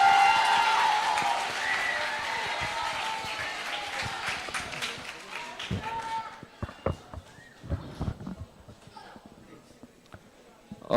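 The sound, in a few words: audience applause welcoming a lecturer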